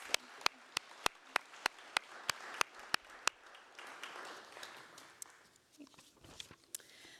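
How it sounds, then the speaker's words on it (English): Audience applause at a community awards celebration, a burst of sharp, evenly spaced claps for about three seconds that fades into scattered clapping and room murmur. "Let's give them all another round of applause."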